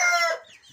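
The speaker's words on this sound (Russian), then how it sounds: "Вот такие у нас на сегодняшний день котлеровские цыплята." A brief, bright chirping call from Kotlyarevskaya breed chicks in a chicken coop rings out up close, then fades into quiet shuffling.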